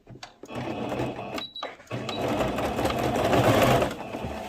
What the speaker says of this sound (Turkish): Yıkandığında lastiğin dönmemesi için orta kısımdan da bir dikiş gidiyorum.